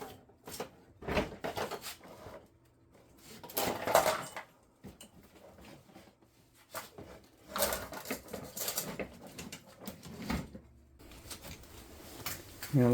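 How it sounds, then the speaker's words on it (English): A lawn mower is heaved from its side back upright, giving irregular metallic clanks, rattles and thumps in several bursts with quieter gaps between them; no one speaks. "let's flip the mower back up on its top"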